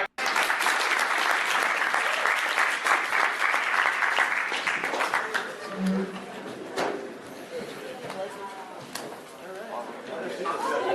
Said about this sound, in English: And again, this is the crowd.